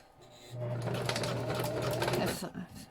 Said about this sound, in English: I like to back stitch, especially with those long stitches